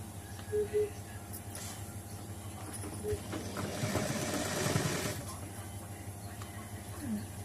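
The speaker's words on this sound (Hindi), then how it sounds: "जैसा क्रॉस पट्टी का शेप है वैसा वैसा ही सिलाई करते जाना है।" Sewing machine stitching a blouse, a steady mechanical whir that swells into a louder stitching run around the middle before easing off, under a voice giving instructions.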